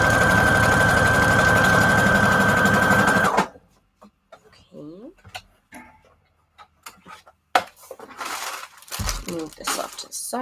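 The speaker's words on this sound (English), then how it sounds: "So I'm just going to use straight stitch to kind of do that for me." Sewing machine running a straight stitch through cardstock: a loud, steady mechanical whir for about three seconds that stops abruptly, followed by quiet scattered handling noises.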